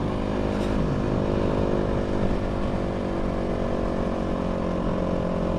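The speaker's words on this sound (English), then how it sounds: "This bike is just coming on cam" A motorcycle engine drones steadily and loudly through the whole stretch, heard from a WR250F dirt bike being ridden in traffic, with a continuous mid-pitched hum and no clear pass-by peak.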